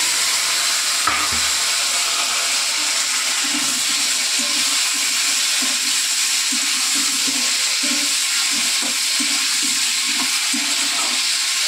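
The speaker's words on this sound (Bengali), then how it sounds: "সবজিগুলো একটু ভাজা ভাজা করব।" Sliced potatoes and pointed gourd frying in a pan with a little oil give off a steady, close sizzle with soft stirring scrapes running throughout, with no talking over it.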